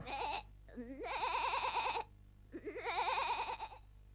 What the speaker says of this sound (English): May I introduce Jolly, the smartest goat in the world?